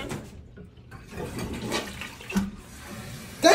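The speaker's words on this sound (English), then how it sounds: "Hurry up and flush this shit, man." A toilet flushes up close, a steady rush of swirling water that fades and swells over a few seconds, with a sharp knock near the end.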